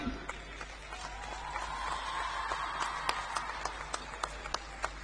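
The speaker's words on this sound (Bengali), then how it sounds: "এইটুকু হাততালি একটা বেশ সোনার পদক এনেছে" Audience applause at Eden Gardens during an on-stage felicitation of a cricketer, a moderate wash of scattered clapping with sharper individual claps standing out, steady across the moment with a faint hum beneath.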